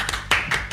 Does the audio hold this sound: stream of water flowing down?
no